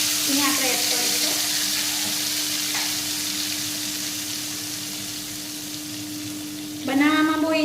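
Spices and mustard seeds frying in hot oil for kala chana chaat give a steady loud sizzle throughout, with light stirring and a faint tone underneath, and a brief voice rises near the end.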